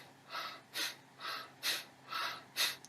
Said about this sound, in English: Deep, powerful breathing.